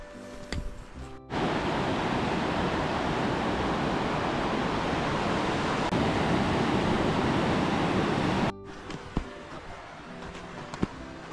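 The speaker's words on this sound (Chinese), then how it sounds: "现在可以听到瀑布的声音，应该是个小瀑布" A small waterfall at Blue Pool, Oregon, roars as a steady, loud broadband rush that starts abruptly and cuts off just as suddenly, with quieter outdoor ambience on either side.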